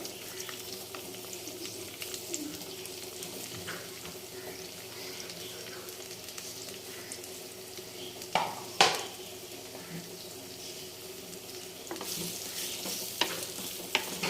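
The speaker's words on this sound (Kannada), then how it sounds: "ಎಣ್ಣೆ ಕಾದಿದ ತಕ್ಷಣ ಈಗ ಒಂದು 4 ಈರುಳ್ಳಿ ಕಟ್ ಮಾಡ್ಕೊಂಡಿದ್ವಲ್ಲ, ಆ ಈರುಳ್ಳಿನ ಹಾಕ್ಕೋಬೇಕಾಗುತ್ತೆ" Chopped onions frying in hot oil for a village-style tomato curry, a steady soft sizzle with occasional stirring clatter of a spoon against the pan, close and moderately quiet, no talk.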